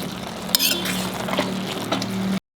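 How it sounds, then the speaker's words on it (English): A utensil stirs carrot halwa with khoa in a pan, producing soft scraping and a couple of sharper clinks against the metal over a low sizzle before the sound cuts off abruptly. "Keep stirring it so that it becomes a homogeneous mix."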